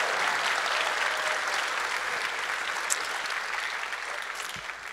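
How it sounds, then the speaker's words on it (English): Audience at a symphony orchestra concert giving a round of applause, a steady, full wash of clapping that holds evenly throughout and eases slightly at the end. "Give him a round of applause"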